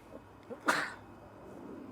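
A single short, sharp burst like a sneeze from someone nearby, preceded by faint small noises, then quiet room tone.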